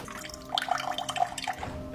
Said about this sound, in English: This is our cold water pressure in the kitchen